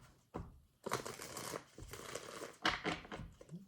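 Tarot cards are shuffled close up in a few quick papery bursts of riffling and crinkling, separated by short quiet gaps.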